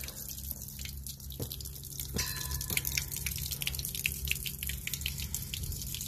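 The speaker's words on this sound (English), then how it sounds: "Fresh water is coming out." Fresh, cold spring water runs and drips from a spout at a watering hole fitted with a dipper, a steady close trickle with scattered splashing drops and no talking.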